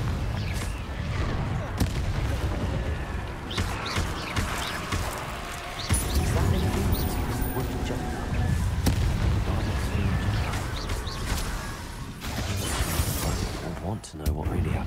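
Confringo explosive spells blast repeatedly in the Hogwarts Legacy video game, a dense run of booming impacts and crackling bursts layered over continuous speech and combat noise.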